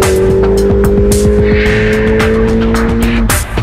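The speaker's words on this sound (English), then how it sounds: "Nothing can prepare you for the almost violent kick of the GTRS 3S when you floor the loud pedal" An RGM BMW GTRS 3S race car accelerates hard along a racing circuit's main straight, its loud engine note climbing steadily through the revs, close and dominant throughout.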